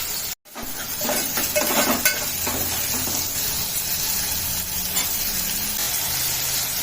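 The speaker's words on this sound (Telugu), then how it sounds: "దీంట్లో డైరెక్ట్ ఉల్లిపాయలు వేస్తున్నా" Finely chopped onions and green chillies sizzle steadily in a hot pan, a loud continuous frying hiss with faint clinks of stirring, no talk over it.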